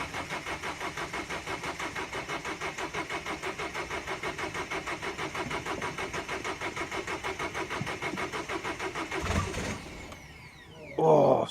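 A diesel van cold-starting cranks with a rapid, even rhythmic chugging from the starter for about nine seconds, followed by a few louder bumps and a short surge near the end as it fails to catch.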